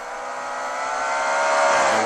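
An unsponsored Chevy Monte Carlo stock race car from the Alan Mitchell Motorsports stables drives laps at Star Speedway during an exhibition race. The engine roars loud and steady and swells gradually as the car approaches, with no talking.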